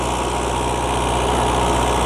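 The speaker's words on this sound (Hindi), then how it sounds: "ना कोई ट्रैक्टर गर्म होया, बहुत जबरदस्त किस्म का चल रहा वा जी।" NH85 Dabung tractor engine running steadily under load during laser land levelling, a loud continuous drone close by with no voices.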